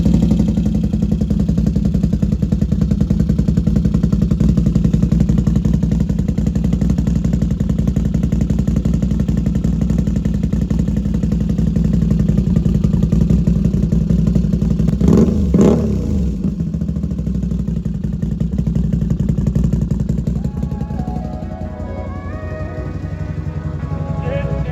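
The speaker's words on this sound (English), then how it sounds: "Gonna give her a nice little cold start," A Can-Am Outlander ATV fitted with a Modshop exhaust idles after a cold start with a steady, close, low rumble. A brief sharp clatter comes midway, then the engine note shifts and dips near the end.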